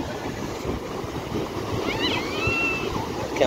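Sea shore at Bhuigaon beach in Vasai, with a continuous broad wash of surf rolling in and a faint high tone drifting through midway.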